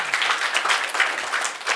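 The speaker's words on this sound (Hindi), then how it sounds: "नितेश जी के लिए तालियां" An audience at a magic show applauds Nitesh with a close, bright burst of rapid clapping that holds steady for under two seconds.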